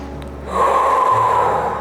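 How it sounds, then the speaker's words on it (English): A single strong inhale drawn through the nose during a facial exercise routine, a close, steady breathy rush lasting about a second and heard alone. "Inhale through the nose."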